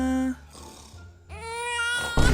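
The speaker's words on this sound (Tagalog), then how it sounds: "Baby, stop crying na." A baby cries in rising, strained wails with short grunting breaks between them, close and loud, with no clear talking over the sobs.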